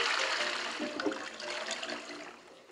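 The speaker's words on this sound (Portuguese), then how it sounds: "Descarga." Toilet flushing in the Toca Life World game: a loud, steady watery rush that starts strong and slowly tapers over about three seconds, with no talking over it.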